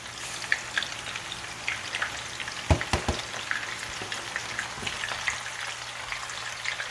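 Onion and spices sizzle and crackle in a pan for zucchini masala, with a steady frying hiss, a few sharp stirring knocks near the middle, close and alone.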